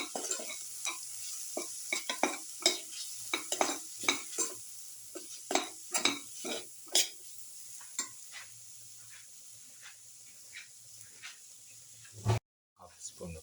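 Spices sauté in a pan while a garlic chicken liver and bell pepper casserole is made, heard as a series of irregular stirring scrapes and taps over a faint low sizzle, close and distinct, ending in a brief cut to silence.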